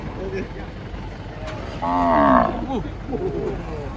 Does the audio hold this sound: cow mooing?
yes